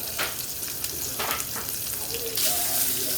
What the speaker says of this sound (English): We're going to let this sear about 6 minutes.